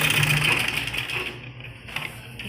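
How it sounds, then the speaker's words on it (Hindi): A sewing machine stitches fabric for a baby frock in a steady, rapid whir that is loud at first, then eases off and softens near the end, with no voices over it. "यहाँ हम आधा इंच की दूरी पर सिलाई करेंगे। डबल सिलाई हम लगाएंगे इस पर भी।"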